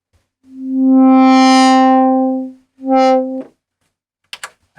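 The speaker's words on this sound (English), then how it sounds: "so that sound you're hearing is the basic, sound that I programmed." Arturia PolyBrute synthesizer playing a programmed patch as a motion-recorded loop: a long sustained buzzy tone swelling and fading, a shorter repeat of the same tone, then two brief clicks, loud with no talking.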